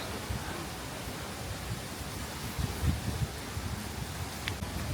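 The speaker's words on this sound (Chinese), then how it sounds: "哇，起风了！" Wind blows along a Shanghai shopping street as a broad, rushing hiss that swells and buffets in soft gusts, with faint low rumbles underneath.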